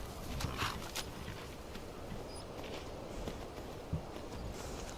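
Horse hooves clip-clop faintly in Skyrim, a soft uneven patter of steps over a low ambient bed, quiet and without talk.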